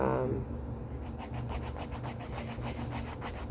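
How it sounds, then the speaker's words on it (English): Acrylic nails being filed down with a nail file from a Kiss salon acrylic kit, a steady rapid rubbing rasp with regular back-and-forth strokes, close and continuous. "it's really not hard to file down"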